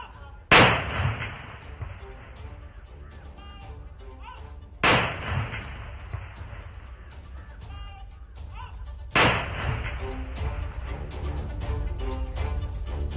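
A 5 kg can bomb hidden in bushes near a school detonated in a controlled blast by security forces; three loud booming explosions a few seconds apart, each with a sharp crack and rumbling tail, with voices faintly in the background.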